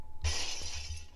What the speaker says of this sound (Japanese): 仮面割れた。